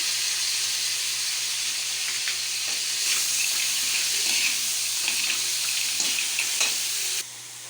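Crablets simmering in a pan with soy sauce and a splash of water, cooked for a garlic-flake dish, give a steady close hiss and sizzle with faint bubbling and occasional pops that soften near the end. No talking.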